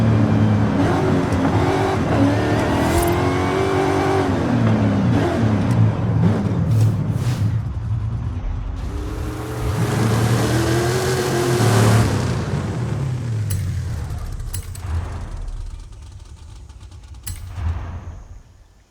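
A first-generation Volkswagen Beetle and a seventh-generation Volkswagen Golf race in Forza Horizon 5, with loud, continuous engine roar and revving. Pitch sweeps rise and fall as the cars accelerate and shift, with brief tire noise near the end.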